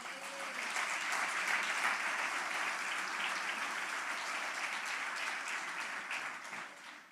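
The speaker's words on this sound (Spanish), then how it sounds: "Dale un aplauso a Cristo." A church congregation applauds together in a sustained, even wash of clapping, moderately distant and fairly soft, with no voice over it.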